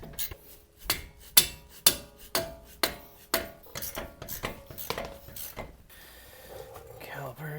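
Repeated metallic hammer blows against a Jeep brake caliper to knock it loose during an inner axle seal job, about a dozen sharp strikes in steady rhythm, close by, followed by scraping and handling noises.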